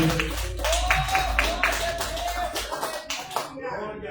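A church congregation claps in praise during a worship service, rhythmic hand claps continuing for a few seconds while a voice carries over them, then fading out.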